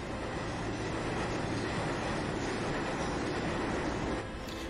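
A train rolling on rails in the video game Final Fantasy VII produces a continuous low rumbling drone with steady mechanical noise, even in loudness and fading slightly at the very end, with no talking.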